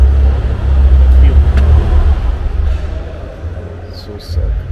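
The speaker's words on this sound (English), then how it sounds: "Just eating my breakfast and notice this 993 just pulling in casually." A Porsche 993 pulls in with a deep, rumbling engine that stays loud and close throughout, with faint background sounds on top.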